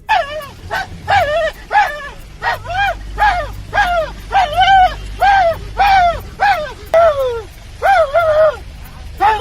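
A man imitating a dog barking in protest, giving a rapid run of loud, close yelping barks and whimpers in an irregular rhythm over low background hum.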